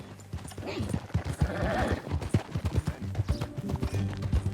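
Horse hooves clop in a quick, steady rhythm, close and prominent, with a brief whinny-like voice and faint talk in the background, in Red Dead Redemption 2.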